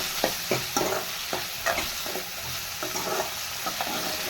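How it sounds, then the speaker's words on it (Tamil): Chopped tomatoes sautéing in hot oil for a chapati kurma, a steady sizzle broken by repeated scraping and stirring strokes of a spoon against the pan, close and moderately loud, no voices. "அரிஞ்சு வச்சு தக்காளியும் சேர்த்துக்கலாம் இந்த மாதிரி நல்லா வணக்கிக்கலாம்"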